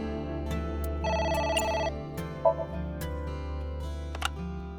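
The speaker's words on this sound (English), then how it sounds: "The phone is ringing." A telephone rings inside the video game AI: The Somnium Files, with a steady electronic ring over a bed of background game music and chimes, loud and close.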